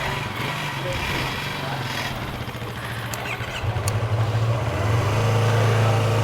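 A motorcycle at night, its engine thrumming low and steady before revving up louder and rising in pitch near the end, with people talking over it.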